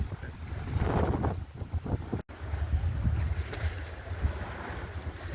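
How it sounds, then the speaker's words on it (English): Wind buffets a sailboat under way in a channel near Sidney, rushing and gusting against the microphone over the wash of water along the hull, loud and close, with one brief dropout midway. "The wind's dying down a bit now."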